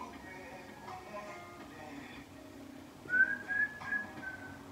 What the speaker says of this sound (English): The music in the background, if you can hear it.